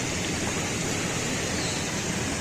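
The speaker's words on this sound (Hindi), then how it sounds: "पानी गिरने की आवाज़ आ रही है।" Water pouring from a tank beside a mountain trail to Ultar Meadow in Hunza, a steady dense rushing splash, close and unbroken.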